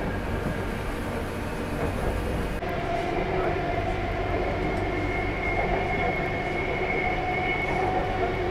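A Bengaluru Yellow Line driverless metro train at Ragigudda station hums steadily from inside the car, a low rumble joined partway through by sustained, slowly shifting motor tones.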